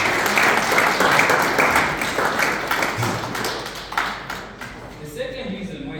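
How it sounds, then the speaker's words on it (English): A conference audience claps together, a dense steady wash of applause that thins toward the end, heard alone with no talk over it. "Clap for yourselves."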